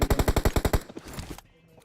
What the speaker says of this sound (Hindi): यहाँ पे हमारे भाई न जाने क्यों बेफालतू में गोलियां चलाते हैं